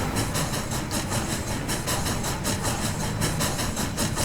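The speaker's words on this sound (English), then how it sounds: "the chuff sounds on this version don't sound that bad" A simulated PRR I1sa 2-10-0 steam locomotive chuffing in the Trainz 2019 game, a dense, continuous rushing exhaust with a fast rhythmic beat throughout, loud and steady, no talking.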